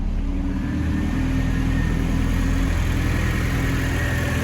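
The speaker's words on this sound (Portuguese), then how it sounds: "o carro já pega" A Passat 1.6 engine fitted with a Weber 450 carburetor idles steadily, a low continuous rumble with an even throb that stays constant throughout.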